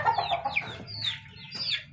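Hybrid chickens cluck nearby in a string of short, rising calls, fairly loud and close, with no talking.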